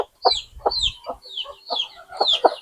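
Domestic country hens cluck in a steady series of close, overlapping calls during morning feeding, with faint low scuffling underneath.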